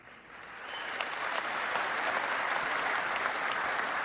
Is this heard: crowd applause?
yes